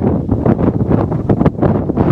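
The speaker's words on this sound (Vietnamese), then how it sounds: "gió to quá cho nên là" Strong wind buffeting the microphone on an 833-metre hilltop where paragliders wait for calmer air, a loud, continuous roaring rush with gusty swells and no pauses.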